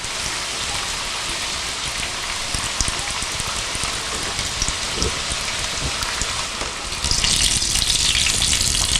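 Samosas frying in hot oil, a dense, steady crackling sizzle that runs throughout and swells louder near the end, close and with no voices.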